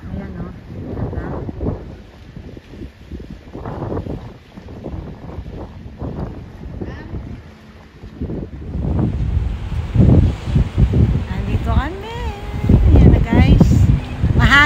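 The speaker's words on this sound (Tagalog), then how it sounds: "Mahangin kasi dito kami sa dagat." Gusty seaside wind at Porteau Cove beach buffets the microphone with a continuous low roar that swells louder toward the end, while a person talks throughout.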